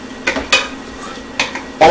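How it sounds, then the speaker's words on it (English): Garlic with onions and carrots sautéing in a pan, a few sharp scrapes and clinks of a utensil stirring against the pan over a faint low sizzle. "all we're going to do is we're just going to saute this until it becomes fragrant"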